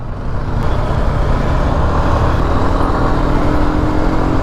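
A motorcycle accelerates along a hot, busy Indian road, its engine noise blending into a loud, continuous wash of wind and surrounding traffic.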